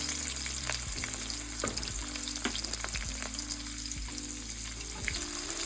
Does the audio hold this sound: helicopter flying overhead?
no